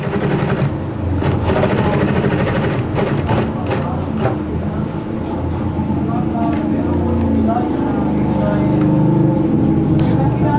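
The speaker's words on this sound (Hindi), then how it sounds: "ये आपकी आसानी के लिए मैं बिल्कुल स्लो सिलाई लगा रहा हूँ" Domestic sewing machine running slowly as it stitches a straight seam along a sleeve placket, a steady mechanical whir with repeated stitch ticks heard up close beneath a voice talking throughout.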